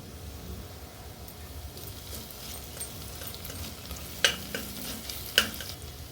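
Ginger garlic paste frying with onions in a pan for Chennai-style vada curry, a soft steady sizzle with occasional stirring scrapes and two sharper utensil clinks near the end.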